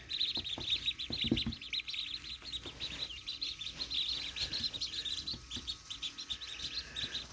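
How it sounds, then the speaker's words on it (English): A brood of white and fawn Indian runner ducklings chirps continuously at close range, a dense stream of high, rapid peeps from many birds together, with a few soft thumps and scuffles underneath. "So these are white and fawn, or fawn and white Indian runner ducks."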